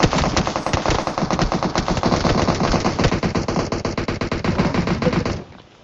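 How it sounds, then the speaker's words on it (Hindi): Sustained automatic gunfire from PUBG Mobile, a loud, dense stream of rapid shots that runs for several seconds before cutting off abruptly, with no speech. "उनका आना हुआ ऐसा फायर मतलब क्या ही बताऊं कैसा फायर है उन बंदों का"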